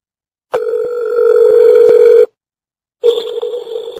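A telephone call to a county sheriff's office rings on the line: two steady electronic ring bursts, the first about two seconds long and the second cut short, separated by a silent gap, loud and clear with no talking.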